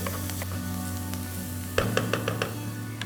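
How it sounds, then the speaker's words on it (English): Finely chopped onions sizzling in hot coconut oil in a pan, a steady bright sizzle with clustered crackles and pops that intensify partway through. "To the hot oil I'm just going to add some onions."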